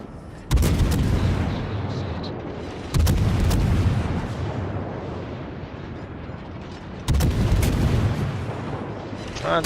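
Shells slam into a burning warship in the World of Warships naval game: three heavy booming impacts several seconds apart, each loud and sudden, followed by a long rumbling tail of fire and explosion noise.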